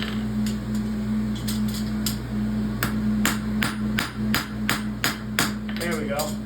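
A farrier hammers a heel caulk on a pony horseshoe, giving a series of sharp metallic strikes that start spaced and grow quicker and more rapid, loud and close, over a steady background hum.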